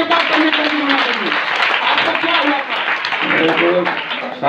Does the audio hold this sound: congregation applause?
yes